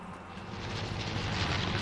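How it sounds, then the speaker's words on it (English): A plane in a PS4 battle-royale duo match drones in from behind, a steady low engine rumble that swells louder over its short span, heard alone. "An airplane's coming from behind."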